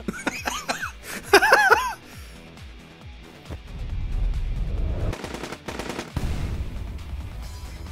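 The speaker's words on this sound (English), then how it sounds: "Why'd you shoot at the flower, you weirdo?" Rapid bursts of gunfire in the video game AI: The Somnium Files, played under laughter and excited voices, with dense fast shooting in the second half.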